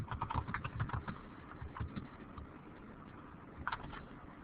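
Quick, irregular clicking of keys on a computer keyboard, moderately quiet and steady for several seconds with no talking over it.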